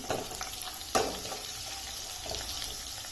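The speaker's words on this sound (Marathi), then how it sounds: "आता यात टाकायची हिरवी मिरची हिरवी मिरची थोडीशी आपण क्रिस्पी होऊ द्यायची" Green chilies crackle and sizzle in hot oil in a pan while kadhi is prepared, a steady close fry with a sharp clink of a utensil near the start and soft stirring scrapes.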